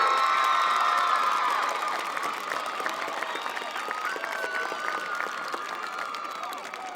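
A football homecoming crowd applauding and cheering for the 2010 court members, dense clapping with scattered whoops and children's shouts, loud at first then settling into steady applause.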